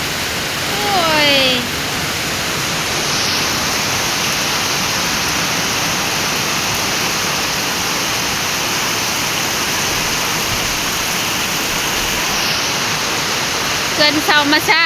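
Heavy rain pours down steadily as a dense, constant hiss for the whole stretch. A voice briefly talks near the start, and a faint voice returns near the end.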